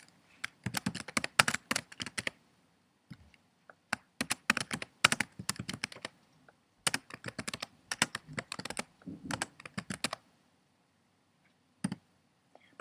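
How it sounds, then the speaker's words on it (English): Typing on a computer keyboard while composing a blog post, with several bursts of rapid, close key clicks separated by short pauses, no talking. "now you can type in the title of your post here and the body here"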